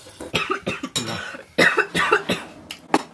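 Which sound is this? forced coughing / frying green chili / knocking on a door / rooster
forced coughing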